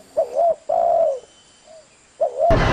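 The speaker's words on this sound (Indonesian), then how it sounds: "suara alam burung perkutut" Zebra doves (perkutut) cooing at a singing contest, a clear close call in repeated phrases: two firm coos, a faint short note, then another coo cut off by a burst of noise.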